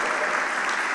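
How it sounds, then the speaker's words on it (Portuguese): Steady, dense clapping from a church congregation, a continuous wash of hands filling the whole moment without pause. "Dá uma salva de palmas para Jesus aí"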